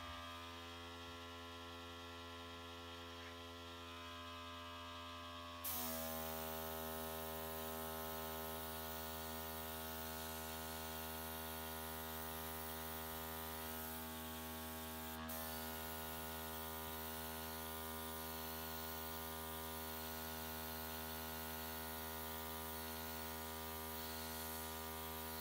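Airbrush spraying air over alcohol ink artwork, a steady hiss with a motor hum that steps up in level early on and then runs continuously and evenly to the end, with no talking.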